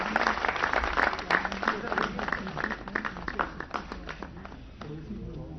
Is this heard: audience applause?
yes